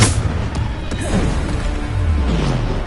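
Booming spell blasts and crashing impacts from a Hogwarts wizard-duel video game, dense and loud throughout with overlapping whooshes and thuds.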